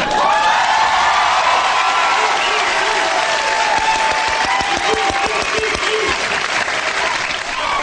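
Loud, sustained applause from a large television studio audience at an improv comedy show, with some cheering and whoops mixed in, continuing throughout.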